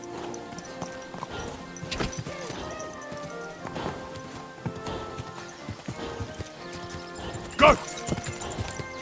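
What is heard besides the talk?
horse galloping and neighing, from video game Kingdom Come: Deliverance II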